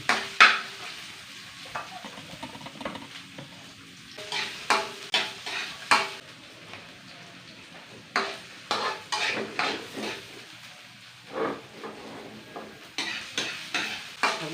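Onion, garlic and ginger sauté in a pan, with repeated stirring scrapes and clinks of a utensil against metal over a soft sizzle, coming in bursts with short pauses.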